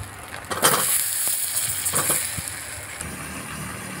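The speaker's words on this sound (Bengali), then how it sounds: "এবার আরেকটু তেল দিয়ে এর মধ্যে ভালো করে পটলটা ভেজে নিতে হবে।" Pointed gourd (potol) frying in oil in a pan, a loud continuous sizzle broken by a few sharp stirring clanks and scrapes, with no talking.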